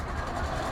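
A railroad car rolls along the Singapore tracks on the last train ride, giving a faint, short rumbling clatter at a distance.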